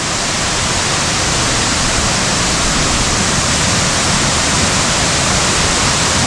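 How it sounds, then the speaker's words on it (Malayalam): A powerful forest waterfall in Arag forest roaring as a dense, steady, loud rush of water, unbroken and with no voices. "നല്ല പവറുണ്ട് വെള്ളത്തിന്."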